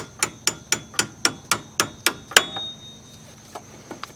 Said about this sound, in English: if we take a hammer to our bolt here, it should pop out quite easily